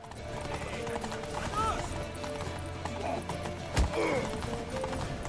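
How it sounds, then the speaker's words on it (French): Horse hooves clop and shuffle in The Witcher 3 video game as several horses move and back up, with a brief whinny, steady and fairly close amid game ambience and someone speaking French over it. "Ça recule pas bien les chevaux."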